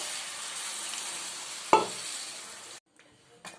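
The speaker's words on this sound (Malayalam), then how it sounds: "കടലയുടെ കൂട്ട് നമുക്ക് ഇതിലേക്ക് ഒഴിച്ചു കൊടുക്കാം." Cooked chickpea mixture poured into a pan of hot masala for Kerala kadala curry, a steady frying sizzle with one sharp splash partway through before it cuts off, no talking.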